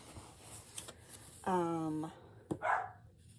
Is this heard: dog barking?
yes